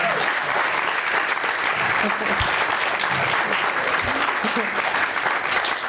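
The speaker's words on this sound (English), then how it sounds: "I think he deserves a round of applause for that." An awards-ceremony audience applauds in a dense, sustained burst of clapping that fills the room evenly from start to end.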